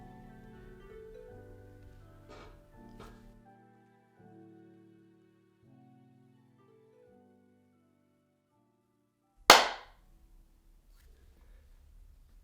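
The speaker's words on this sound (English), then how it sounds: "It's my almighty prayer sync clap" One sharp, loud hand clap, used as a sync marker for a recording, sounds close and alone after several seconds of quiet tonal sounds, followed by faint room noise.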